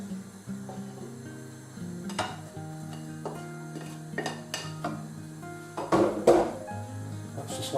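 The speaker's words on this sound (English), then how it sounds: "the first thing you want to do is to fry your onions" Sliced onions dropped into a hot pan for beef stroganoff, a soft sizzle beneath clinks and scrapes of utensils against the pan, with a louder clatter of stirring near the end.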